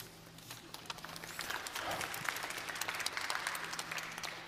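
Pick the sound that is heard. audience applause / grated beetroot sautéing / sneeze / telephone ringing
audience applause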